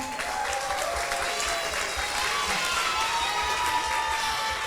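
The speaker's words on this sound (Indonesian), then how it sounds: "Tepuk tangan untuk kita semua." An audience at a public talk on artificial intelligence and the future of young people applauds, a dense, sustained wash of clapping from many hands that stays even and moderately loud throughout, heard from within the hall with no speech over it.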